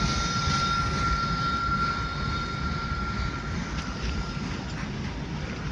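Train passing by outdoors in hilly forest country, a steady broad rumble with a sustained high tonal whine, fairly loud and even throughout, no talking.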